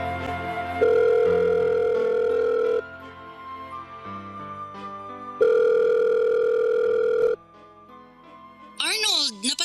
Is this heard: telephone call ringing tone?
yes